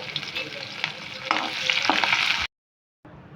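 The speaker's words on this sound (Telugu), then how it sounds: "కొన్ని ఆవాలు వేసుకోవాలి చిటిపట దాకా కొన్ని వేసుకోవాలి" Mustard seeds spluttering and popping in hot oil while tempering for cabbage manchurian, a close crackling sizzle that rises in intensity before cutting off abruptly.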